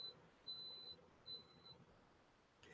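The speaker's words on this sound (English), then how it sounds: "Did you hear that beeping? That was my coffee pot telling me that my coffee pot is no longer on." A coffee pot gives faint, high electronic beeps as it switches off, three steady tones in a row against quiet room hiss.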